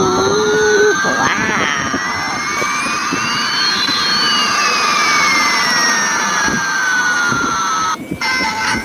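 A toy airplane gives off a loud electronic jet-engine whine with rising and falling sweeping tones, continuous for several seconds and cut briefly near the end.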